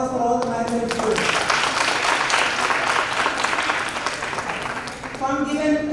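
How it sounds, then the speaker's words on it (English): Sustained applause from the student audience at a national seminar session in Mahendrahills, loud and dense for several seconds, with talk audible at the start and end. "Round of applause for all the Mahendrahills students."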